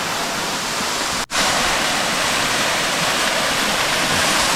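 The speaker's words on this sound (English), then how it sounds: "seeing this waterfall" A desert waterfall in the Organ Mountains pours steadily, with a loud, dense roar that fills the whole clip and drops out for an instant near the start.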